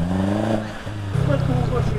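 A Nissan Patrol engine revs in thick mud, its deep note rising and then dropping back with a rough, pulsing idle. Speech is present throughout.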